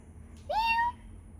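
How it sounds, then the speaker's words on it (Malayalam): An elderly cat gives a single drawn-out meow, close and fairly quiet, rising then holding steady for about half a second against a faint background hum. "ഇത് പൂച്ചകളെ കൂട്ടത്തിലെ ഗ്രാൻഡ് ഫാദറാണ് ഗൈസ്"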